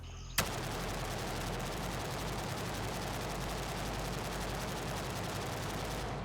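Sustained automatic fire from an AK74M rifle in the video game Gray Zone Warfare, a sudden onset followed by a continuous dense rattle of rapid shots, loud and unbroken.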